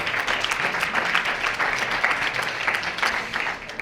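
Audience applause at a La Voix du succès event in Drummondville, dense continuous clapping from a large crowd, fairly loud and even throughout, with no talking over it.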